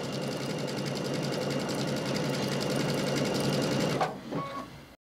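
A Baby Lock Altair sewing and embroidery machine stitches at a steady, rapid mechanical rhythm, loud and close, then stops abruptly near the end, leaving a few faint clicks and handling noises.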